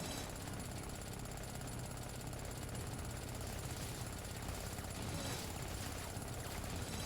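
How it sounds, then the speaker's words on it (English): Weed whacker weapon in the video game Orcs Must Die 3, a continuous dense buzzing whir that holds steady and loud throughout, with no break. "with my handy-dandy weed whacker"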